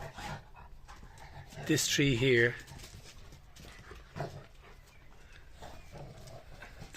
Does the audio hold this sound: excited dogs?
yes